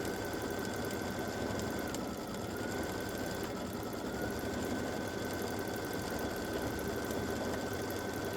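A quilting machine stitches a continuous double loop edge-to-edge design, a steady, fast mechanical hum and rattle running without pause at a moderate, close level, with no voices.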